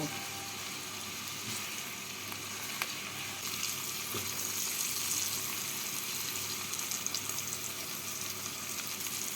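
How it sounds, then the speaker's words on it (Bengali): Green capsicum, green chillies and peas frying with mixed vegetables in a pan for vegetable fried rice, giving a steady, moderately loud sizzle with faint clatter throughout, no voices. "ক্যাপসিকাম কাঁচা লঙ্কা দিয়ে সবজিগুলোর সাথে দু মিনিট ভেজে নেব"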